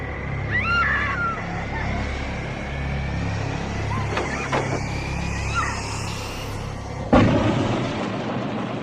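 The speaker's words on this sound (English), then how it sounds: "This is not just a head explosion, by the way. This is an entire body explosion" A film explosion blows up an entire body in a 1978 carnival scene from Brian De Palma's The Fury, breaking out as a sudden sharp blast near the end after a stretch of low rumbling background noise.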